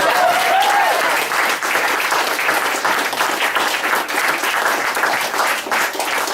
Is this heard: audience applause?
yes